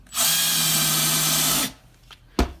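A power drill drives a screw into a part for a paint can lighter cannon, a single loud steady whine of about a second and a half, then a short quiet pause and one sharp knock.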